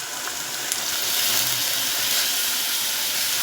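Hardened caramel syrup boils in water while a plum cake is being made, giving a steady, close, loud hiss and bubbling with no pauses.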